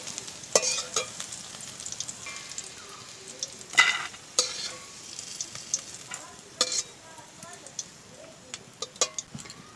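Sliced bitter gourd frying in oil in a pan while being stirred, a continuous sizzle broken by sharp scrapes and clinks of the spatula at irregular intervals, close by, with occasional talking.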